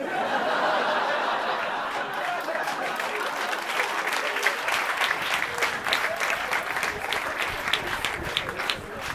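An audience at a live stand-up comedy show breaks into applause, starting as a soft wash and growing into sharper, distinct claps over the second half, mixed with light laughter and crowd murmur.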